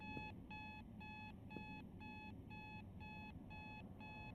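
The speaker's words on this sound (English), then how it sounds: "Alex, don't turn off your goddamn alarm." An alarm clock goes off with repeated bursts of high electronic beeps, about two per second in a steady pattern, loud and continuous over low background noise with no talking.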